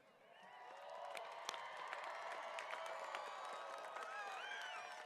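A commencement crowd claps for new university graduates, a sustained round of applause building quickly and holding steady across the hall with scattered louder claps and faint cheers, no one speaking over it.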